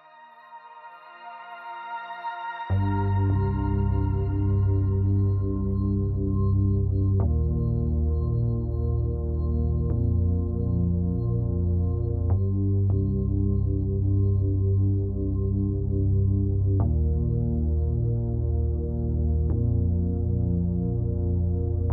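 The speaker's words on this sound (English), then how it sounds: "They put in layers of bright chime-like pads that sound like they're sparkling and glimmering, along with this darker synth melody" Ambient synth music from the Glacial Strata level of the video game Deep Rock Galactic, with bright, shimmering chime-like pads over a darker synth melody and steady low tones, entering after a soft swell and continuing loud with periodic struck accents.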